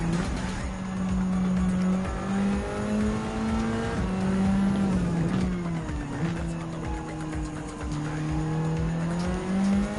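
Group 4 race cars racing in Gran Turismo 7, engines droning and shifting pitch continuously with whining gear changes and brief tire squeal, loud and sustained with no talk.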